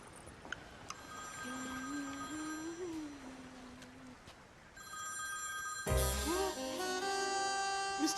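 A telephone rings with repeated electronic trills, fairly loud and near, followed by a brighter, busier ringtone burst toward the end.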